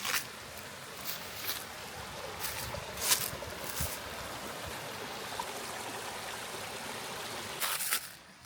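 A creek on the Appalachian Trail runs with a faint, steady trickle and babble, broken by a few short, sharp handling noises nearby.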